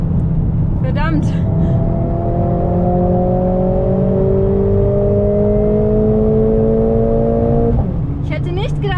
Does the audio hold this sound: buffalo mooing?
no